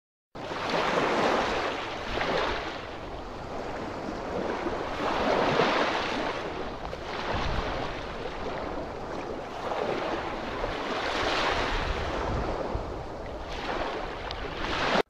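Ocean waves wash onto a beach in a video game, a steady roar that swells and recedes in repeated surges, with wind-like hiss and no talking.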